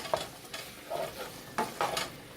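Food browning in a pan over medium heat for a copycat Taco Bell Mexican pizza, with a steady soft sizzle and several clattering stirs or scrapes recurring through the short stretch, close and moderate in level.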